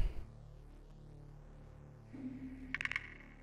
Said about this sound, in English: The clicking.